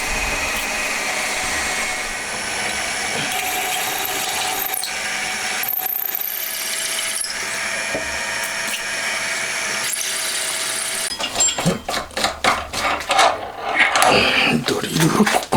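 A drill bores into a Honda Monkey engine cover that is being built into a four-cylinder, first with a center drill and then larger bits. A steady whine runs for about eleven seconds, followed by choppy, uneven cutting bursts.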